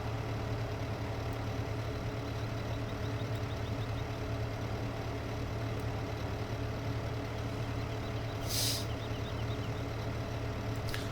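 A telehandler in Farming Simulator 15 drives along with a steady, droning engine hum that holds at an even loudness throughout, plus a brief hiss near the end and no talk.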